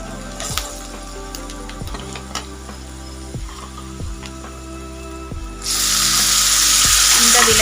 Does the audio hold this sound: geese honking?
no